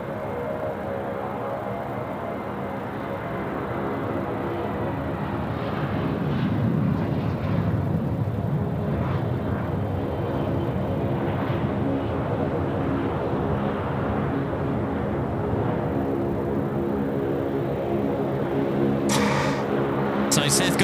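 A plane landing at Sydney Airport on runway 34 left makes a steady, fairly loud roar that swells and holds for about twenty seconds. An air traffic radio voice is heard faintly under it.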